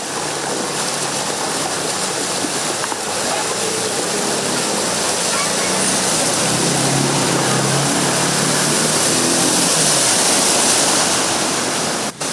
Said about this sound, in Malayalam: തൃപ്പൂണിത്തുറയിലും തൃക്കാക്കരയിലും പശ്ചിമ കൊച്ചിയിലും ആലുവയിലും കനത്ത മഴയാണ് പെയ്തത്.